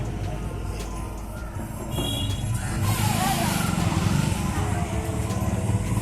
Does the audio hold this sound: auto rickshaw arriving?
yes